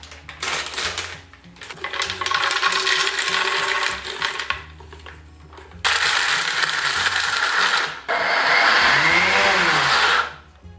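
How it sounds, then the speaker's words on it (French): A blender grinds salted Blue Diamond almonds into fine powder in its bowl, several loud bursts of whirring and crushing separated by brief pauses, close and alone. "réduire en poudre les amandes dans le bol du blender"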